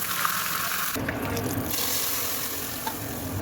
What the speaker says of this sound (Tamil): எண்ணெய் ஊற்றி வடகம் போட்டு பெருங்காயம் கருவேப்பிலை போட்டு தாளித்து ஊற்றிக்கலாம்